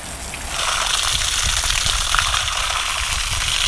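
Water gushing onto citrus trees in an orchard during hot weather, a steady, loud rushing and splashing that starts after a brief quieter moment and then runs on without break.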